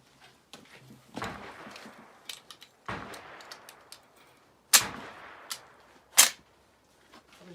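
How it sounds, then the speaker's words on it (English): Several sharp rifle shots from an M95 Mannlicher fired at a 25-yard target, spaced unevenly between quieter bolt handling and clattering clicks, each report loud and close, with no voices. "we'll go ahead and try shooting at 25 yards. We're going to try 3 rounds"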